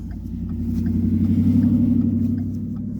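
Road traffic rumbles steadily past, a low, continuous drone of car engines and tires that swells slightly in the middle, with no voices over it.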